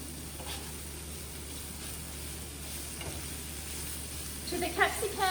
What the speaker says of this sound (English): we're going to cook off the capsicum and onion for about 10 minutes over medium heat